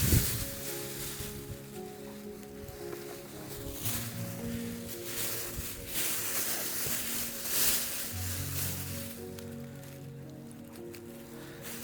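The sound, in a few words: wind blowing outdoors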